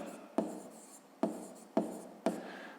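A pen writes in a school notebook while working a fifth-grade math exercise: four short, crisp scratching strokes with brief pauses between them, close and alone with no talking.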